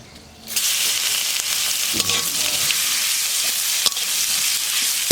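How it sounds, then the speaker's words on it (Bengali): Crushed garlic goes into hot mustard oil in a kadai with cumin, dried red chillies and bay leaf: after a quiet moment a sharp sizzle bursts up and carries on steadily and loudly, with occasional stirring clicks and no speech. "রসুনটা তেলে ভাজা হয়ে গেছে"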